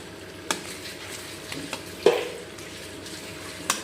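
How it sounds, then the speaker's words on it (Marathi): Goat mutton frying in a pan of melted onion-tomato masala, a steady soft sizzle close by with a few sharp stirring clinks of a spoon against the pan. "आणि मग सोडू याच्यामध्ये बकऱ्याचं मटण. थोडंसं भाजून घ्यायचं याला चांगल्यापैकी."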